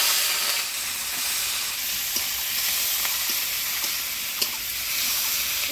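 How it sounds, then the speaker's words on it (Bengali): Prawns frying in hot oil for a Bengali dish with pumpkin, a steady close bright sizzle with occasional pops and crackles, no talking. "তেল গরম হয়ে গেছে, মাছগুলো এবার দিয়ে দিব।"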